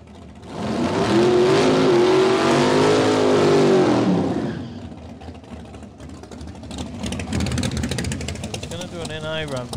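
A drag race car's engine roars loudly during a night test run at a jamboree, a sustained high-power blast for several seconds before cutting off, followed by crowd chatter and someone talking nearby.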